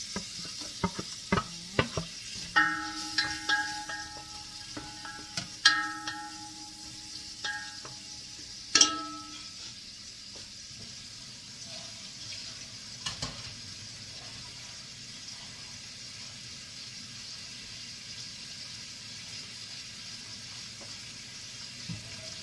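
Onion and garlic sizzle in a pan while being stirred, with several sharp scraping clacks of the utensil early on, then a steady faint frying hiss continuing alone.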